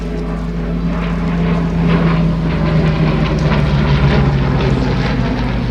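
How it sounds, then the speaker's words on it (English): Hawker Hurricane Mk.1 fighter taking off at an air and car show, its piston engine droning loudly and steadily with a strong low propeller hum and a slowly shifting pitch throughout. "The first of our Hawker Hurricanes getting airborne."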